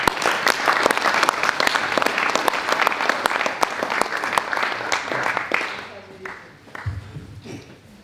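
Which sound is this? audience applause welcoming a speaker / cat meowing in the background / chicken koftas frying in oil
audience applause welcoming a speaker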